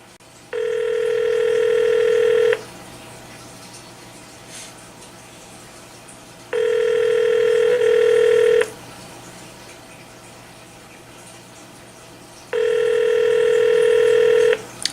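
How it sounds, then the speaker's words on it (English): Phone line ringback heard while calling a hotel: three loud, steady two-second tones, evenly spaced about six seconds apart with quiet hiss between them. "Let's see if anybody answers the phone."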